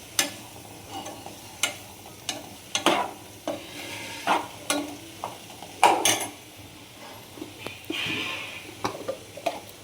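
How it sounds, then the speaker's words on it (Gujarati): Leafy greens (bhaji) cooking in oil in a pan, with a low steady sizzle under close, repeated spoon scrapes and clacks against the pan roughly every second. "તો જો આપણી ભાજી છે ને તેલમાં ઘડીક સડે છે."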